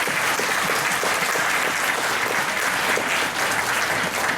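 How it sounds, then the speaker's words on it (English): An audience at a community rights forum gives a round of applause. The clapping is dense and steady throughout, filling the room at an even, fairly loud level. "this is a round of applause"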